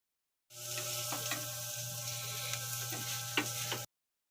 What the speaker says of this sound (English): We need to keep on stirring this until it's well cooked.